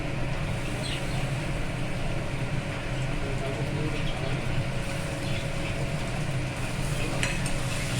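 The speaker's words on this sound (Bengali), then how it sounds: "আদা রসুন পেস্টটা দিয়ে আমি একটু ভালো করে এটা আবার কষাবো" Onions sautéing in a pan with ginger garlic paste for a Sunday chicken recipe, giving a steady, continuous sizzle with faint stirring scrapes throughout.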